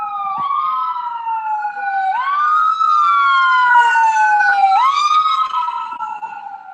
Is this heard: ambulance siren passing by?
yes